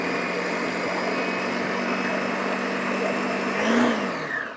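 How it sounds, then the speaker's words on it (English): A kitchen blender running on its low setting and pulsing, a steady loud whirring motor drone that swells briefly near the end. "So you put it in the blender."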